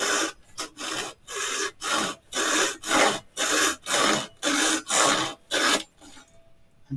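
A small hand saw cuts a wooden rafter for a model house, making about a dozen even back-and-forth rasping strokes, close up and moderately quiet, ending as the piece comes free.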